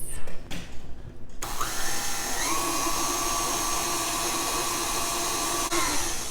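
An electric hand mixer whirs steadily through cream puff batter, rising in pitch after a brief clatter and then holding a loud, even mechanical whine near the microphone.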